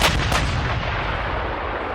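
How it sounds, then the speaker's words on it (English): Pirate ship cannon fires a shot, a loud booming blast at the start followed by a rumbling decay, with a second quick crack just after the first. "Marteen just ordered a cannon shot across the bow of the Neptune."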